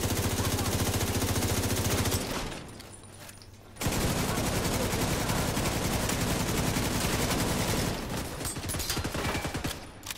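Rapid automatic bursts from the Chatterbox gun in The Division 2, loud and close, with a brief pause in firing before sustained rattling fire resumes and trails into a few scattered final shots.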